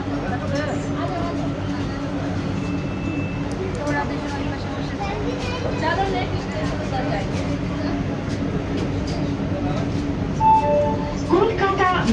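A Kolkata metro train runs along with a constant low rumble and hum, faint squeals and rattles over it, while people talk quietly inside the carriage.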